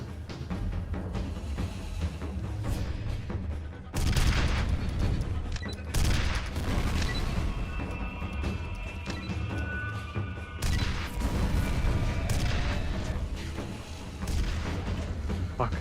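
Sustained turret gunfire in the shooter F.E.A.R., dense loud bursts of rapid shots and booming impacts rolling on continuously for several seconds with brief lulls, a voice occasionally speaking over the fray.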